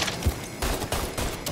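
Heavy gunfire in the Mafia III action game, a loud run of overlapping shots and bursts that fills the short stretch without pause.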